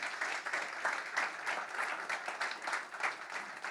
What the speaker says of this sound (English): Big round of applause for her, please